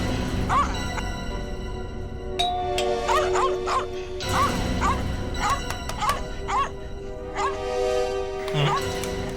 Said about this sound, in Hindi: कुत्ता परेशान है।